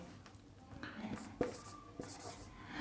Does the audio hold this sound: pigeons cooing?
no